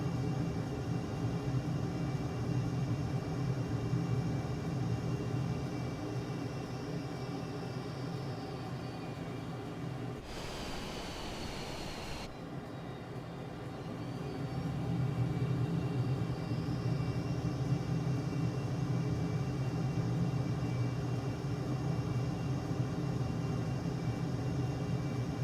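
An F-22 Raptor jet engine roars steadily at full throttle in Microsoft Flight Simulator, a loud sustained drone with a hum layered on top, broken by one brief dip before the thrust swells back.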